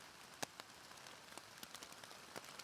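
Rain falls on a polyplastic tarp over a hammock in the woods during a thunderstorm, a quiet close patter of separate drops tapping at an uneven pace with no talk.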